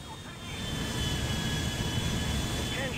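A Boeing 747 cruising in GTA V gives off a steady, loud roar of jet engines, a constant broadband rumble with a faint high whine on top and no speech.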